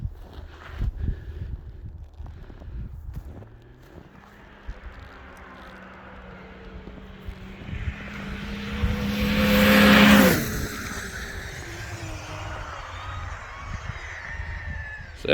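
Sidewinder snowmobile revving up and accelerating hard, engine pitch climbing steadily over several seconds to a loud peak, then easing off; faint voices in the background early on.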